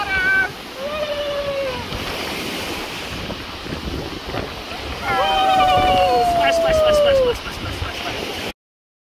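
Ocean waves wash in at a beach on Cape Cod, a loud roar of surf mixed with heavy wind buffeting, with voices and high excited cries over the rush of water.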